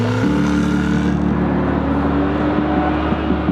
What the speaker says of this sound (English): First thing I noticed about the car is the kind of roar of it.